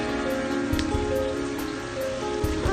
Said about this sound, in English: Are you playing in the rain?